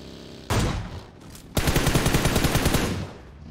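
Automatic gunfire in the mobile battle royale game PUBG Mobile: a short loud burst, a brief pause, then a sustained rapid stream of shots lasting about a second and a half, close and dominant with no talking.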